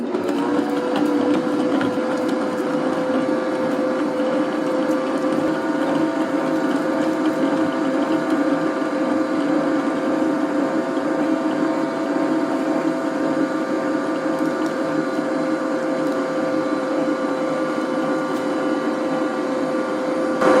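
An electric stand mixer creams room-temperature butter with powdered sugar for a strawberry gelatin cake, giving a steady, loud motor whir that hums on without a break.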